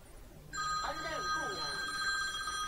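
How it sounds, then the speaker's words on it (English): A telephone ringing during a watercolour and gouache painting session, a steady electronic ring that starts abruptly and keeps going, fairly clear at moderate volume. "I had a phone call come through then."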